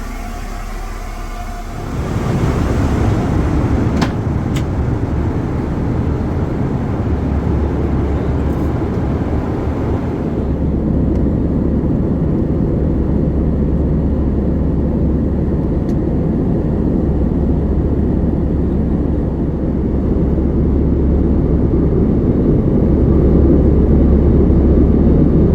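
Inside a Pelita Air airliner cruising toward Balikpapan after turbulence, the cabin fills with a loud, steady roar of engine and airflow that sets in abruptly after a brief quieter moment and holds unbroken.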